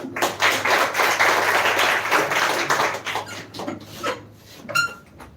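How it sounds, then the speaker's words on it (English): Students clapping for their mentor, Mr. Sanjeet Singh, at a speech competition session: dense, fairly loud group applause that thins out after about four seconds into a few scattered claps. "So clap for him."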